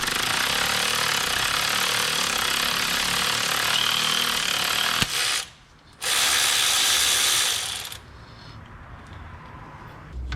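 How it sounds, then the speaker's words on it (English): Ratchet wrench loosening the 17 mm timing belt tensioner bolt on a Ford Ranger, rapid close clicking pawl ratcheting in long continuous runs with a brief pause, then fading to quieter handling noise. "we can go ahead and start removing the tensioner"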